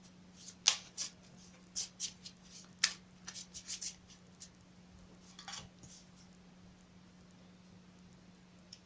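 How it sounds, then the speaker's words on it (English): Cards are shuffled in quick irregular bursts of crisp riffling and slapping, close and fairly quiet, with no talking. "I'll shuffle it again for you on camera."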